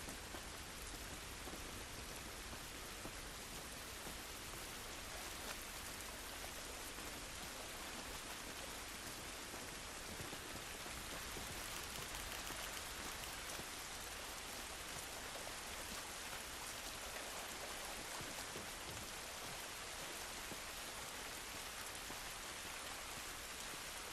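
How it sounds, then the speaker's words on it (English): Steady rainfall in The Last of Us Part II, a dense, even hiss of drops pattering on surfaces outdoors, continuous and unchanging at moderate volume with no voices. "This rain ain't gonna do us any good."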